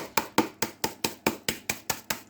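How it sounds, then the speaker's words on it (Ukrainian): Ten or so sharp, evenly spaced knocks in quick succession, a rolling pin whacking nuts inside a bag, close and steady with no talking. "Розбиваю горіхи качалочкою."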